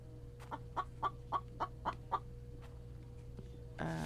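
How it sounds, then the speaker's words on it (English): A chicken in the video game The Infected, stuck in the floor, gives a run of seven or eight clear rhythmic clucks over a low steady hum, followed by a louder burst at the end. "There's a chicken stuck in the floor there."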